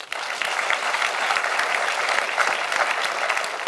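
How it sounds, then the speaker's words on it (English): A university community standards gathering bursts into dense, sustained applause from a crowd, steady and even from start to finish, with no one speaking over it. "If you agree with that, why don't you clap?"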